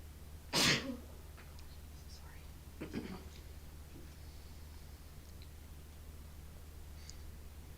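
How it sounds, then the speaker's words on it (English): A single sharp sneeze bursts out near the start during a quiet moment of silence at a school board meeting, followed by faint rustling and a soft throat sound in a hushed room. "my sneeze wasn't so silent"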